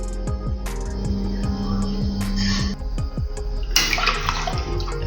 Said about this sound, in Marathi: आता यामध्ये आपण पाणी टाकणार आहोत